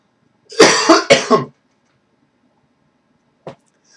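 A harsh bout of coughing, two or three heavy coughs in quick succession up close, followed by silence and one small cough later.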